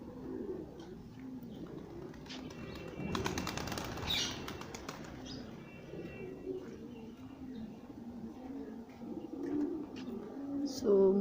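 Pigeons at a village pigeon house coo softly in the background amid a burst of wing flapping near the middle, with faint chirps and steady outdoor ambience.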